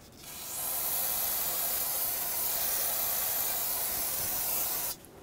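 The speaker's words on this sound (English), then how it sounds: "I'm going to take some brake parts cleaner and clean it all up." Aerosol can of brake parts cleaner sprayed on a 2007-2014 Chevrolet Silverado 2500 HD brake area in one continuous close hiss of about four seconds, with no talking.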